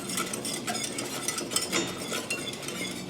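A whisk stirs warm liquid ingredients for banana pudding in a pan on the stove, giving a steady close scraping and clinking of metal against the pan that runs throughout with no talking.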